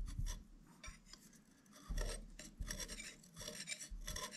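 A hand tool scrapes and cuts across heat-treated spindle steel in short, rasping strokes, quiet and close, with uneven pauses between pulls.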